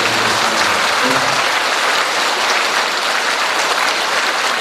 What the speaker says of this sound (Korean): 감사의 박수 한번 부탁드립니다.